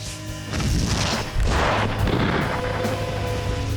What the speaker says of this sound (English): that explosion was huge